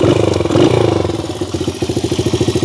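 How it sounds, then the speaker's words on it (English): A Honda XR75 flat track motorcycle is kickstarted, the engine catching into a close, loud, rhythmic single-cylinder putter that settles into an even idle with regular pulsing beats. "When you start the bike,"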